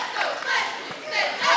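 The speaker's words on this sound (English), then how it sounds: "We have the Ramsay cheerleaders here tonight, as you hear the cheering in the background" Ramsay High School cheerleaders chant and cheer in unison at a basketball game, a loud rhythmic crowd of voices swelling and dipping across the gym.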